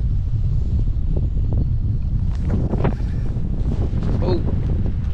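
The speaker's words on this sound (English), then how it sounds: "it'd be a very long day today with this steady wind" Steady wind blowing across a boat on a striper fishing trip, a constant low rushing roar buffeting the microphone, with water and faint movement sounds beneath it.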